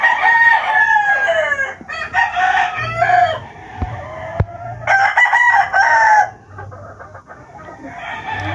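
Several roosters crow in repeated bursts among a flock of brood hens on a gamefowl farm, with hens clucking between the crows and a low hum underneath.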